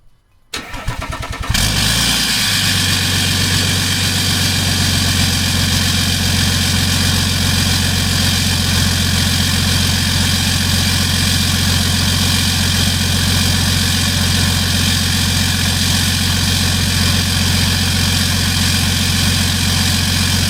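A tuned 3.0L LM2 Duramax diesel fitted with a stainless steel PPE Power exhaust cranks and catches, then settles into a loud, steady idle with a low, even drone that holds unchanged for close to twenty seconds.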